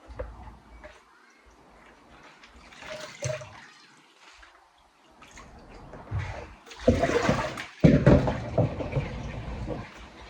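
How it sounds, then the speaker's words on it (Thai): A tap runs while vegetables and herbs are rinsed in a home kitchen. The water is faint and uneven at first, then splashes louder in irregular gushes toward the end. "ล้างผัก"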